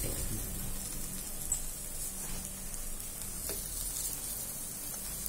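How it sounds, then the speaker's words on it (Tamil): Semolina roasts in a pan with milk poured in, making a faint, continuous hiss and soft sizzle throughout, with no voices. "ரவைய வறுக்கிறோம் இல்லையா, வறுக்கிறப்பவே அந்த பாலையும் அதுலயே ஊத்தி"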